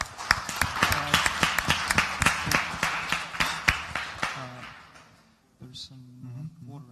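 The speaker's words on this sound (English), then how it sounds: "give a round of applause to Päev" Audience at the sTARTUp 2014 startup event giving a round of applause: a run of sharp, evenly spaced claps, fairly close and loud, that thins out and stops, followed by a brief voice.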